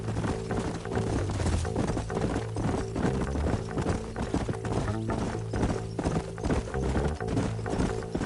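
Horses clip-clopping in Red Dead Redemption, a steady busy patter of hoofbeats from several animals at a trot over a low musical bed, with an occasional whinny and no speech.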